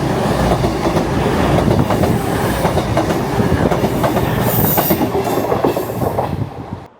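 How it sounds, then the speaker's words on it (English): A train passes on a curve of the East Coast Main Line near Morpeth Station, a loud continuous rumble with rhythmic clickety-clack from the wheels that carries on for about seven seconds before cutting off abruptly. "you can get some good shots of trains passing on that curve"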